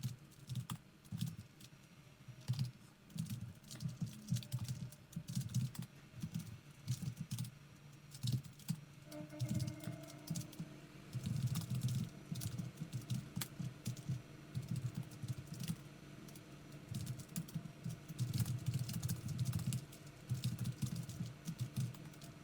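Java code is typed on a computer keyboard, a near, steady flurry of quick key clicks in uneven bursts with brief pauses, no voices present.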